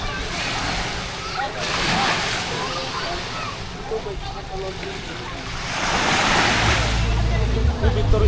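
Ocean surf washes ashore at Alona Beach, Panglao, Bohol, Philippines, in rising and falling swells, with wind buffeting the microphone and a person talking over it.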